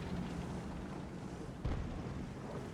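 World of Tanks game audio with a T110E4 tank: a single heavy cannon boom cuts through a faint, low rumbling battle background, fairly quiet overall.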